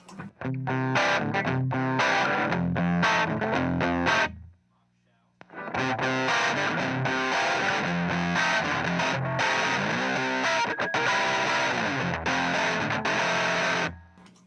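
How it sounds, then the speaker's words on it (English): A guitar played through an Aclam Dr. Robert fuzzy distortion pedal in normal mode, loud chords and riffs with a short silent pause partway through. "The Dr. Robert obviously has a fair amount of distortion"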